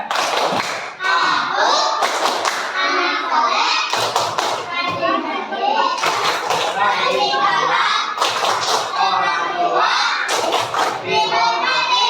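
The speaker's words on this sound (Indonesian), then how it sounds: "marilah kita bareng-bareng tepuk anak soleh ya" A group of children at an Indonesian school lesson chant the tepuk anak soleh clapping rhyme, loud sung voices broken by bursts of rhythmic hand claps at regular intervals.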